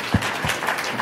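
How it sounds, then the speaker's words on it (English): A conference audience at a startup pitch forum applauds in a short burst of clapping. "round of applause"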